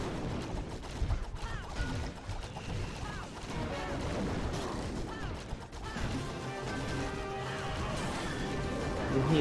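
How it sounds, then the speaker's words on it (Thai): Explosions from a Clash of Clans clan war battle, a dense dull crashing barrage of blasts and impacts running continuously with game effects layered on top. "ระเบิด"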